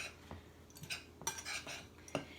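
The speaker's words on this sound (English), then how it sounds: "Then I'm going to stir that together, give it a good stir around, get everything all mixed together." A spoon clinks and scrapes against a bowl while stirring dry scone ingredients for cinnamon pecan scones, a few faint, irregular taps and scrapes with quiet gaps between them.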